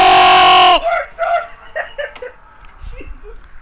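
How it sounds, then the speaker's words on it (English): Mary, a creature in the horror game Damned, lets out a loud, piercing screech that cuts off abruptly, followed by excited voices talking and shouting. "She screeched!"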